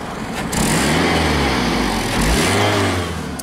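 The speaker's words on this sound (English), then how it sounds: "Well, besides the little exhaust leak, it sounds fine." Steady, raspy idle of a 2000 Acura TL or 2003 Toyota Highlander with an exhaust leak near the catalytic converter, a sputtering, puffing rattle, rising briefly in two gentle revs, close by.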